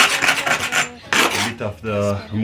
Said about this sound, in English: If you can get a wire brush like this, help you to remove